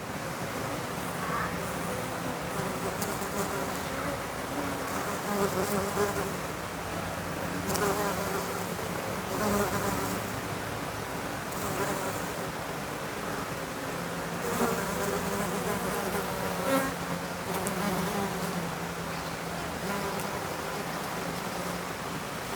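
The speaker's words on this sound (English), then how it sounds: "the blue banded bee, and that's actually been coming to visit this tree also" Blue banded bees and other native Australian bees buzzing steadily around a flowering tree in the bush, a continuous close hum of wings with a soft wind-like wash behind it and no talking.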